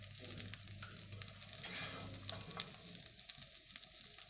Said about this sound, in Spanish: No vamos a dorar el arroz, pero vamos a sellarlo un poco con este.